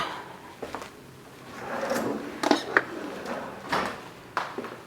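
A kitchen drawer is opened and a whisk is grabbed from it, giving a few sliding wooden thuds and metallic rattles of utensils, close and moderately loud, with a voice talking briefly.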